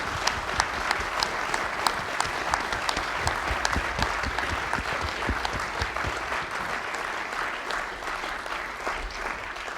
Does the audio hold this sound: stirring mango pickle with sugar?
no